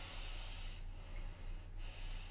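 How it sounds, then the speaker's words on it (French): Deep, deliberate breaths taken during an anti-fatigue breathing exercise: two strong airy inhalations through the nose, about a second apart, close and fairly quiet, over a steady low hum. "prendre quelques grandes inspirations tonifiantes"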